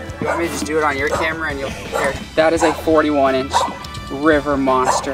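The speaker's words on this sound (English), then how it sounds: "Sorry about the dog barking." A dog yips and whines repeatedly in short, high bursts close by on a Florida fishing trip, the barks mixed with and partly under people talking throughout.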